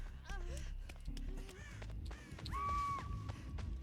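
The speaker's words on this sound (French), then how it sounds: "Ok, j'ai vu un corbeau donc ouais." A crow caws several times in the Dead by Daylight video game, short descending calls and a longer clear caw, fairly faint over game background noise and low rumble.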